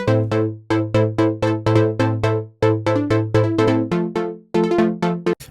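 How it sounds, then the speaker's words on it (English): Saw pluck synth plays rhythmic swung MIDI chords in short, punchy stabs with a few quick grace notes, the pattern repeating bar after bar and shifting chord near the end, loud and dry with no voices. "It's just a saw pluck"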